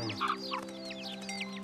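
Cartoon chicks clucking in a quick run of high, bright chirping calls over a steady sustained musical tone, close and moderately loud with no talking.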